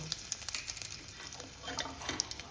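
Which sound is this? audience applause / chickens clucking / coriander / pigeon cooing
coriander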